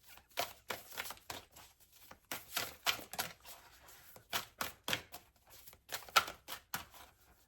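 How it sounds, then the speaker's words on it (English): A deck of cards is shuffled repeatedly at close range, giving quick riffling bursts in an uneven rhythm, each lasting about half a second, with short quiet gaps between them. "Why am I shuffling this again?"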